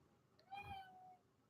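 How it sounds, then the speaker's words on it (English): A black cat gives a single drawn-out, rising-then-falling meow, faint and somewhat distant against a quiet room background. "Do you hear that? That's my cat, Sammy, the black one."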